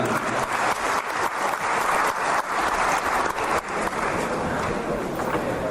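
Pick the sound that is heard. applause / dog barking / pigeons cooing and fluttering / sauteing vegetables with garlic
applause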